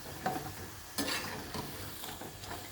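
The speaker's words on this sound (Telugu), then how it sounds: "మీడియం ఫ్లేమ్లో వేయించుకుంటే లోపల పల్లీలు బాగా వేగుతాయి" Peanut pakodi made with gram flour batter fries in oil over a medium flame, a soft continuous sizzle broken by a few brief stirring scrapes, close and fairly quiet.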